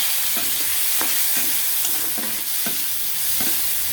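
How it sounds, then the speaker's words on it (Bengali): Garlic and red chillies sizzle in hot oil in a pan for a dried fish bharta, a loud continuous fry hiss broken by repeated close scraping strokes of a spatula, no talking. "রসুন দিয়ে আবার একটু নাড়াচাড়া করে নেবো রসুনটা একটু ভাজা হয়ে গেছে"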